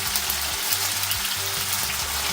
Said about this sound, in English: Next up, we're going to add in the vinegar